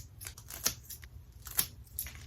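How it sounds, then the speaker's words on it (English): Sanitized scissors snip through monstera roots during repotting, two crisp cuts about a second apart with a faint third, close and fairly quiet, no talking. "I'm gonna take the sanitized scissors again."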